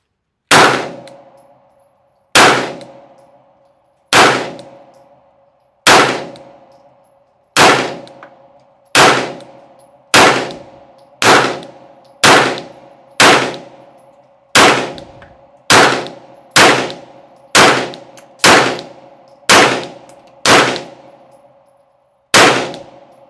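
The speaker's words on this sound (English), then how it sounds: "we'll shoot our next 20 rounds" A CZ P-09 pistol fires about twenty shots at a steel target, each sharp report followed by a ringing metallic clang, first slowly and then in quicker bursts, loud and close.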